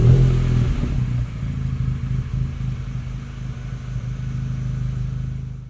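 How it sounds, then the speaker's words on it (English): A car engine fitted with a Baun Performance cat-back exhaust fires up with a loud initial flare, then settles into a steady, deep, throbbing idle close to the tailpipes. "his exhaust start and idle"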